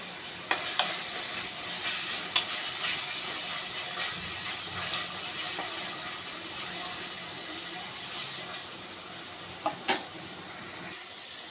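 Ginger garlic paste and raisins fry in a pan with a steady hissing sizzle, broken by a few sharp clicks of a spoon against the pan.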